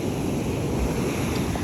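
Ocean waves wash onto a beach in Vietnam in a brief, steady rushing surge, mixed with wind buffeting the microphone and no voices.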